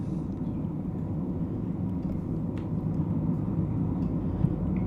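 Spacecraft engines at full power in the Orbiter flight simulator give a steady, loud, low roar with a dense rumble that holds constant throughout, with no talk.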